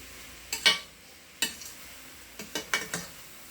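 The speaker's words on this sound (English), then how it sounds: "Everything, mixing it very well, binding it all together" Refried borracho beans mixed into chili in a pot, with a spoon scraping and knocking in short strokes over a faint sizzle, close up and without speech.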